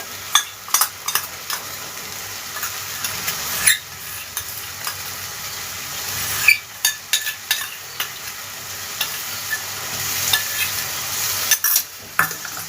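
Turmeric and coriander powder mixed in water tipped into a hot frying pan for a cabbage paneer dish, bursting into loud sizzling with repeated stirring and scraping strokes and spoon clinks, close up with no speech.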